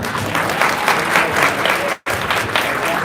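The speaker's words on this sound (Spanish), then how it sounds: "les pido un fuertísimo aplauso" Audience applause for guest author Mackenzi Lee, a steady wash of clapping from a seated crowd that cuts out briefly and resumes.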